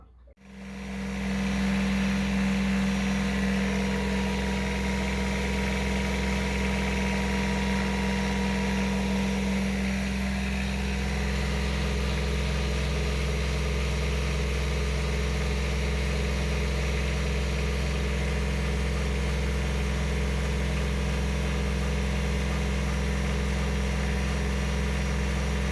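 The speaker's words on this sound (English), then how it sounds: "The engine fired right up, made great oil pressure, coolant temps were perfect." A small engine bought on eBay drives a DC generator, starting up and then settling into a loud, steady idle with a strong low hum held for the whole stretch.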